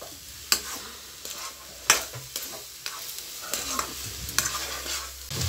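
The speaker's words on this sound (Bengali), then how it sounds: "এখনো ভাজা ভাজি চলছে, ভাজা ভাজি চলছে আর কি।" Grated coconut is fried in a pan for naru, with a steady soft sizzle broken by repeated sharp scrapes and clinks of a spatula stirring against the metal.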